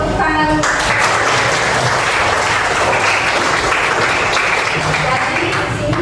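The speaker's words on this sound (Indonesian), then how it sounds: "Tepuk tangan." Classroom applause at a vocational high school, a steady dense burst of clapping from many students that fills the whole stretch at close range with no voices over it.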